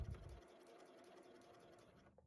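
A sewing machine stitches a fabric dart toward its tip, a quiet, steady whirring hum running for about two seconds after a brief low thump at the start, with no one talking.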